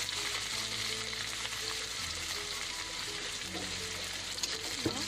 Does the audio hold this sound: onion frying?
yes